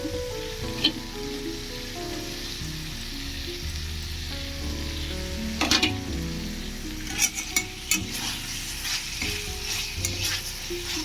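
Meat frying in released oil while being stirred, a constant close sizzle with occasional clinks and scrapes of the spoon against the pot.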